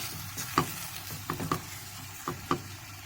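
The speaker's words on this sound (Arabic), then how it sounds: "الكبده بتاعتي اتشوحت وخدت لون حلو قوي، ريحتها طالعه. طبعا هنزل بقى عليها بالبصل. برضه هنقلب كويس كده." Liver and onions sauté in a pan while being stirred, a low steady sizzle broken by several short scraping clacks of a utensil against the pan, close by with no talking.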